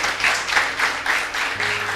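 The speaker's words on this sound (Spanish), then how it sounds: "dale un fuerte aplauso al Señor por eso" Steady applause from a church congregation during a live service, continuous clapping rising and falling in waves for a couple of seconds, fairly loud and close.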